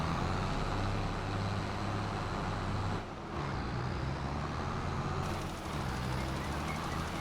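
Big tractor pulling a little lime tank in Farming Simulator 22: a steady low diesel engine drone, loud and continuous with a brief dip in the middle, with someone talking faintly over it.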